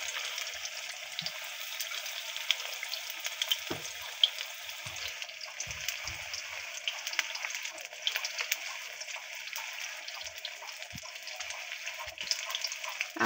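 Banana fritters fry in oil with a continuous, close sizzle and scattered sharp crackles and pops over the full stretch.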